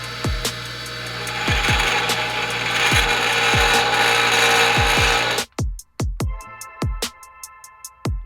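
A power tool grinds the edge off a metal flange during a rebuild of a blown Mitsubishi Evo X engine, a loud sustained whine with repeated sharp ticks, then cutting out into a series of clicks and brief spurts.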